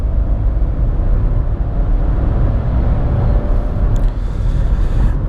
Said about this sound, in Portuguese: Vou fazer a retomada aqui em terceira.